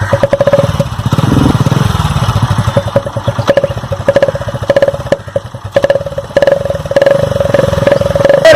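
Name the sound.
motorcycle ride starting off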